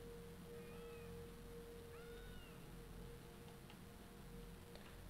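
A cat meows twice in the video game S.T.A.L.K.E.R.: Shadow of Chernobyl, short rising-falling cries at moderate distance over a steady electrical hum and ambient game noise, followed by a few faint ticks.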